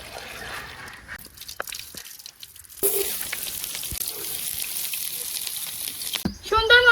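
Onion and garlic fry until brown, a soft sizzle that grows steadier and louder after a short lull, with a voice speaking briefly near the end.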